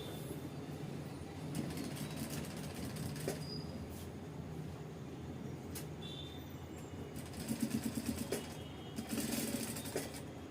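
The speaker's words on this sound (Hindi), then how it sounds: "अभी हम स्टार्ट करते हैं कॉलर के ऊपर सिलाई लगाने के लिए।" A sewing machine stitches along a blouse collar, its fast mechanical whirring steady and close, picking up into louder bursts toward the end, with no talk.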